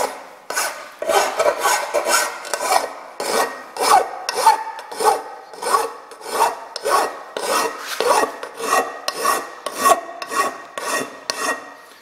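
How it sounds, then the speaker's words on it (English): A file rasps back and forth over a welded metal belt guard in about a dozen strong, regular strokes, each a scraping burst with short pauses between, close and loud with no talk. "do a little sanding on this thing"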